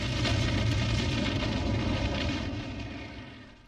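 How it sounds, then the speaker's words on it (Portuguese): A bombing of Chile's Government Palace by military forces in 1973 comes through as a loud, dense roar of explosions and rumbling blasts that holds steady and then gradually fades, with no voices. "O bombardeio do Palácio do Governo pelas forças militares em 11 de setembro de 1973"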